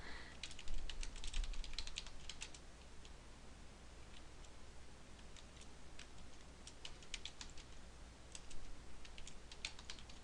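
Typing on a computer keyboard, quick irregular clusters of light key clicks with short pauses between bursts, close and quiet over faint room hiss.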